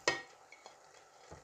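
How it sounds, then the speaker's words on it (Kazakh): Barley tipped into a pot of frying meat and onions for Kazakh arpa kozhe, a brief sizzling scrape and stir at the start, then faint pan crackle and a second soft stir near the end. "Пияз жұмсарғаннан кейін арпаны саламыз."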